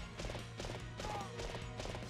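A horse gallops in the Fire Emblem Warriors video game, a quick rhythmic run of hoofbeats with thumping impacts, fairly quiet and continuous over the short stretch.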